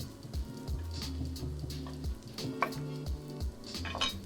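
Garlic frying in a pan for a plant-based chana and aloo dish, a soft continuous sizzle broken by a spoon knocking and scraping against the pan at irregular moments, close but fairly quiet.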